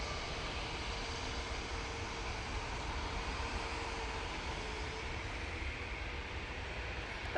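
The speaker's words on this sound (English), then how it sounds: "it's off to Rhodes they go in this A320neo" Airbus A320neo airliner at Manchester Airport, its engines making a steady, distant, faint roar and hum with no talking.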